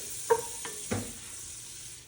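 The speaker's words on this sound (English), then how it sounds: "We're gonna melt these sticks of butter down right here." Sticks of butter melt in a pot over low heat for shrimp étouffée. The sizzle is faint and soft, with a few light clinks of a utensil against the pot and no talking.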